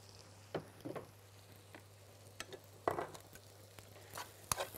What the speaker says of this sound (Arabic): ونقلب كويس كده زي ما انتم شايفين